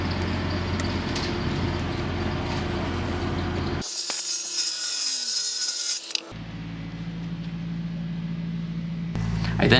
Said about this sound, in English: I used it to cut out a piece of plywood.